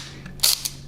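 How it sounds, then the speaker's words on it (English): A 1958 Voigtlander Bessamatic SLR camera fires its leaf shutter with a soft, crisp click followed by a second shorter click, close and quiet over faint room hum. "you've got this gorgeous leaf shutter sound coming out of it too"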